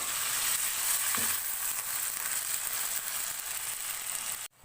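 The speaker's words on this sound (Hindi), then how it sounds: "इसको भी 2 से 3 मिनट प्याज के साथ फ्राई कर लेंगे।" Minced beef, about half a kilo, frying with onions in a pan, giving a steady close hiss and crackle throughout with a brief stir or scrape near the start and a sudden cutoff at the end.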